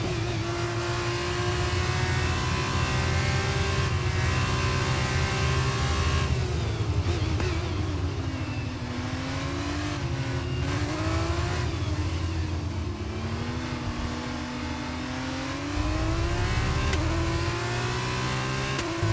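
F2 race car engine from the F1 23 racing game, a continuous loud drone whose pitch climbs and drops through gear changes and throttle, steady throughout with no talking.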